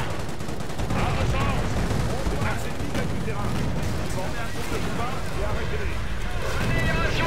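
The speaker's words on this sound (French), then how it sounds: "On subit un feu lourd." Heavy battlefield gunfire in Company of Heroes Opposing Fronts during the Market-Garden campaign: a continuous loud barrage of machine-gun bursts and rifle shots with rumbling explosions, mixed with voices speaking throughout.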